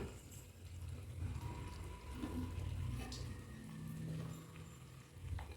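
Egg kulambu, a Tamil egg curry, bubbling at a rolling boil in a pot, a steady low burbling with occasional pops and liquid churning, moderately faint and continuous with no voices.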